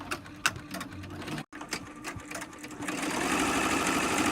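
A Juki Tajima eight-needle embroidery machine runs steadily, its rapid mechanical stitching chatter close and continuous, with a brief pause before the rhythm resumes and grows denser.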